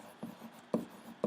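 Pen writing on paper in a classroom lesson, three short quiet scratching strokes spaced about half a second apart.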